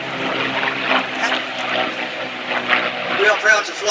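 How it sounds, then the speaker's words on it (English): A Hawker Hurricane powered by a Rolls-Royce Merlin engine flies past at the War and Peace Revival air display, its steady propeller drone rising and falling under continuous announcer commentary. "the Rolls-Royce Merlin also powered the Hurricane"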